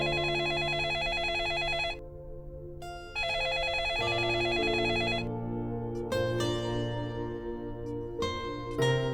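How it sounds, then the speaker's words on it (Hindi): A telephone rings indoors in a household, bursts of electronic ringing repeating with short gaps, loud and close, with no talk over it. "अम्मा, फोन बज रहा है।"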